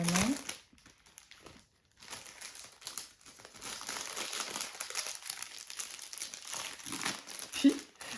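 Paper envelope holding diamond painting items being handled, with crinkling and rustling in bursts across the clip and a brief louder crunch near the end, close by with faint background noise.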